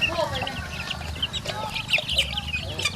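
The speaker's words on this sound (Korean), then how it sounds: "이 동그란 닭장 안에 가둬놓은 닭들은 왜 따로 키우는 걸까요?" Many chickens cluck and chatter in a round coop in rural Laos, with scattered clucks and squawks overlapping close by. A low, steady hum of ambient noise runs underneath.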